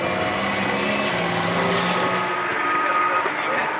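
Porsche Carrera Cup race cars at Knockhill roar past at speed, a loud continuous engine drone with shifting pitch as the pack sweeps by.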